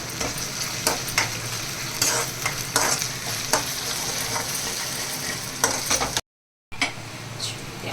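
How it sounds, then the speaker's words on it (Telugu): Ginger garlic paste frying in a pan, a continuous hiss of sizzling oil broken by frequent stirring scrapes, with a brief dropout of silence near the end. "అల్లం వెల్లుల్లిపాయ పేస్ట్ కూడా ఫ్రై అయిపోయింది"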